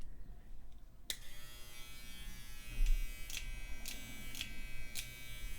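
Electric hair clippers switch on with a sudden click and then hum steadily, a close, continuous buzz with a few faint taps and knocks over it.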